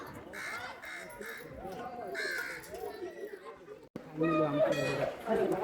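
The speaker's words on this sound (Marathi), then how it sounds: "आणि वरतून कावळे काकाले आवाज देतोय." Several crows caw repeatedly nearby, overlapping with people talking; a sharp click breaks in midway before the cawing and chatter resume.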